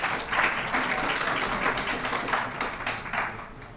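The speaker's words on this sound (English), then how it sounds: "So please give them a round of applause." Moderate applause at a city budget town hall in an arts centre, a soft continuous patter of many hands from a modest crowd, fairly distant and fading toward the end, with no talk.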